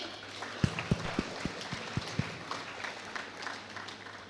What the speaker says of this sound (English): Can we give clap for them?